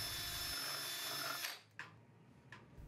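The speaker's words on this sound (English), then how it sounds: "Then drill your hole until its depth measures approximately 1¼ inches into your post." A power drill bores a hole about 1¼ inches deep into a post for a stainless cable railing lag tensioner, whining steadily and loudly for about a second and a half before cutting off, followed by two short handling knocks.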